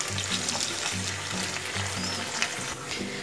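Paneer cubes frying in oil in a wok make a steady sizzling crackle, with a low rhythmic hum pulsing underneath throughout.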